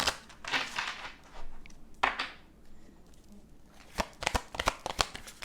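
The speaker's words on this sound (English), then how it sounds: "Sorry if the shuffle is so loud." A deck of tarot cards being shuffled close by, with quick riffling and slapping bursts, a busy flurry at the start, a quieter stretch, then rapid crisp flicks toward the end.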